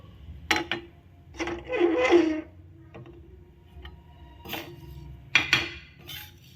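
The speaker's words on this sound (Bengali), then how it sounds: "তো এর মধ্যে আমি দিয়ে দিব, দিয়ে চালটাকে একটু আমি নেড়ে চেড়ে নেব।" Raw Gobindobhog atap rice is stirred in a hot tawa pan: intermittent metallic scrapes and clinks of a spoon against the pan, in a few separate bursts over a low kitchen background.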